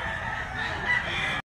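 A medium-sized rooster with white in its tail crows once, a single sustained call, close and fairly loud, cutting off abruptly at the end over faint background noise.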